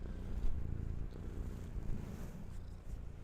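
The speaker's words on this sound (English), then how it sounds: "You still purring?" A cat purring right against the microphone, a soft, low, steady rumble with gentle rhythmic swells, close and faint, with no talking.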